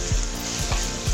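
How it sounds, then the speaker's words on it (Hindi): Tomatoes, yogurt and spices fry in a pan for aloo qeema, a steady loud sizzle with a few scraping stirs of the spoon, close up and without talk. "अभी तो मैं भून रही हूँ"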